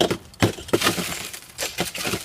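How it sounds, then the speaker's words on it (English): A skylight's outer exterior glass pane shatters, a burst of sharp breaking and crackling impacts followed by scattered tinkling fragments and clinks, loud and close with no talk. "The outer exterior is going to shatter"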